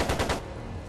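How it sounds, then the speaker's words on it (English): Rapid machine gun fire from the Trails of Cold Steel 2 video game, a loud rattling burst of several quick shots that stops short and leaves a low rumbling tail. "It sounded like a machine gun."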